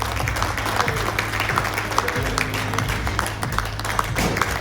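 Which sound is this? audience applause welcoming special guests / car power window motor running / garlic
audience applause welcoming special guests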